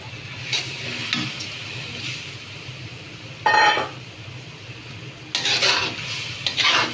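Katla fish head being stir-fried with soaked mung dal in a pan for muri ghonto, with a spatula scraping and clinking against the pan in several short bursts over a low sizzle.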